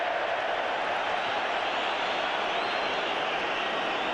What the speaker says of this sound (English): Crowd enjoyed that.